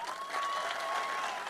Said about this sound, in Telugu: గట్టిగా ఒకసారి చప్పట్లు